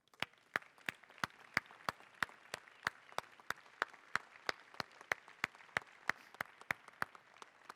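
Audience applause at an awards show comes through faint and sparse, as a steady series of sharp, evenly spaced claps repeating roughly three times a second throughout.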